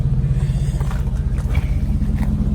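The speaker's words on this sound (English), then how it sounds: "The motor sound a little rough, don't it?" A 2017 Cadillac Escalade engine idling rough, a steady low rumble with an uneven, slightly lumpy beat, close and continuous with faint higher noise over it.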